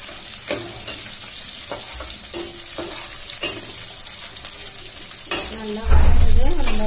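Onions sizzle and crackle steadily in a hot pan, with occasional stirring scrapes and a louder burst of frying near the end.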